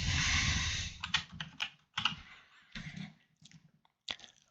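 Fingers tapping out a short name on a computer keyboard in a few quick clustered bursts of clicks with gaps between, close and fairly quiet, with no speech.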